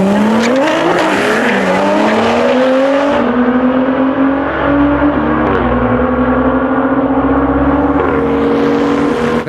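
A BMW M235i accelerates hard down a drag strip at a private racing event, its engine note climbing through repeated gear changes, loud and close, with other race car engine noise underneath and no talk.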